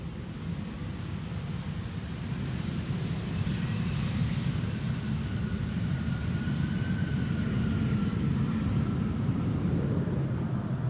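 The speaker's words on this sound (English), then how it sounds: "Embraer 190 in the meantime landed here, returning from Berlin." An Embraer 190 airliner landing on the Polderbaan runway at Amsterdam Schiphol after a flight from Berlin gives a distant, steady jet roar with a faint rising whine, heard alone at moderate volume.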